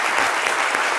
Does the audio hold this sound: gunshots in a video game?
no